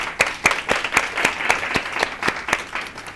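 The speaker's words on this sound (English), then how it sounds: "I just want to give them a round of applause." Rhythmic, evenly spaced claps at a wellness workshop, a small group clapping in unison at a steady beat, about a dozen distinct claps, fairly close.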